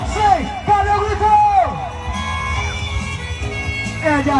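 A crowd cheers and whoops at the finish line of a street running race in Barreiros as a runner crosses, loud rising shouts and yells over general babble, with a voice calling out near the start.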